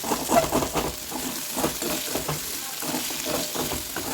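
Plantain frying in oil in a pan gives a loud, steady, dense sizzle that carries through without pause, with faint stirring beneath it.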